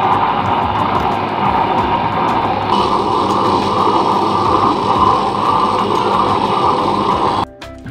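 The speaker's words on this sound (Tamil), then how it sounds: "கொஞ்சம் கொஞ்சமாக தண்ணி சேர்த்து நல்லா அரைச்சிக்கோங்க" A wet grinder churning urad dal batter with water added gradually, giving a steady, loud mechanical whir and grinding drone that runs continuously before cutting out abruptly near the end.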